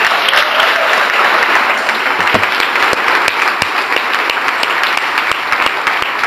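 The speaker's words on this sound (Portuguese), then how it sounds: "Pode aplaudir mesmo." A large congregation at a church congress in Paraná, Brazil bursts into sustained, loud applause, a dense roar of many hands clapping that holds steady throughout.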